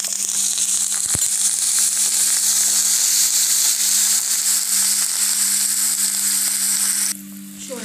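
Curry leaves fry in hot oil for lemon rice, giving a steady, loud sizzle and crackle that holds evenly throughout and drops off sharply near the end.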